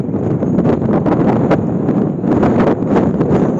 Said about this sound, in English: I can do without all this wind though.